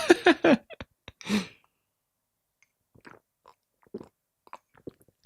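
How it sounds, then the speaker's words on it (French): A small sip of a homemade sweet drink of mint syrup, lemon and water: short, close mouth and slurping sounds in the first second and a half, then only faint, scattered mouth noises. "J'ai pris une petite gorgée."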